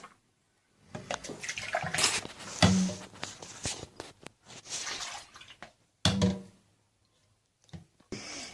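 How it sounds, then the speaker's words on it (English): Cheese-making equipment gets rinsed in hot water: splashing and running water come in irregular bursts and gushes close by, with short pauses between rinses and no talking. "So you rinse everything. Everything in hot water to reduce any type of bacterial culture."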